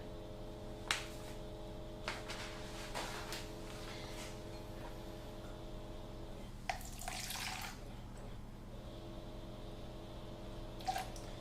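Liquid trickles from a jug that pours badly during home baking with a PME kit. Quiet dribbles and splashes come in short bursts amid light clicks and knocks of kitchenware, with no talking.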